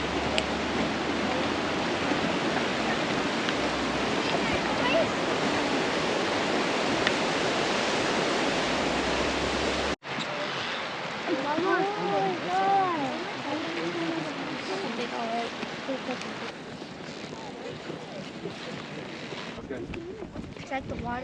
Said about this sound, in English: It's like the water's raining on itself.